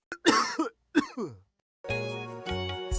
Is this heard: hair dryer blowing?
no